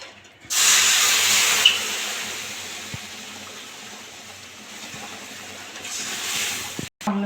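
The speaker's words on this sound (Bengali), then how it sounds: "আমি ভেজে নিয়েছি সুজিটা, আমি এবার জল দিয়ে দেবো।" Water pours into hot fried semolina (suji) in a pan, releasing a loud, steady steam hiss that rises abruptly, holds for several seconds and tapers off near the end, with no talking.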